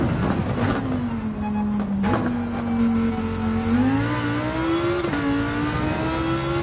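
A racing car engine on a qualifying lap at Fuji in a video game: a steady, loud engine drone that climbs in pitch through the gears, with brief sharp dips at gear changes.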